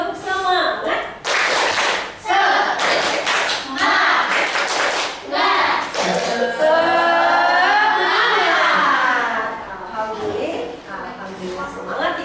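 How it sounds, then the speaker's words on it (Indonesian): A school class of children performs a rhythmic chant-and-clap routine in a classroom: loud, tight bursts of unison clapping in a patterned beat, mixed with children's voices chanting, then sustained group singing-like vocals. "mari kita tepuk semangat dulu biar kita semangat"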